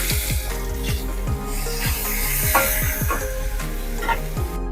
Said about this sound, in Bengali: এবার আমি এর মধ্যে পেঁয়াজটা দেব, দিয়ে পেঁয়াজটা ভালো করে ভেজে নেব।